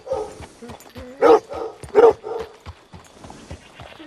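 A dog in Red Dead Redemption 2 gives a string of yelps, whimpers and short barks, two loud yips standing out among softer whines, close and clear.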